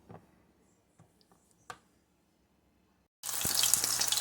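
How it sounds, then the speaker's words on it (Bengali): Pomfret fish coated in fried-fish masala hits a hot pan, and after a few faint ticks and near silence, a loud, dense sizzle of frying bursts in and continues. "দেখছো আমার পমফ্রেট মাছ ভাজা হচ্ছে"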